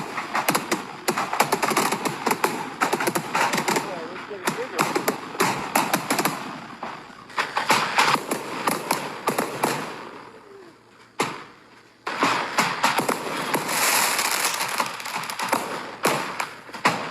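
Fireworks exploding at a burning house in California, a dense, loud run of crackling bursts and thuds in repeated waves with brief pauses between, no talk.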